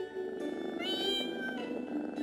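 A cat meows twice in the Pocket Mirror video game, close and clear over a quiet, steady musical background.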